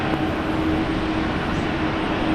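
Aircraft taking off from runway 19 right at Brisbane International Airport, a broad, steady roar of jet engines heard from a distance, continuous and fairly loud.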